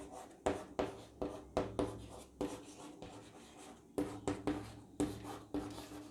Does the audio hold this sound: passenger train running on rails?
no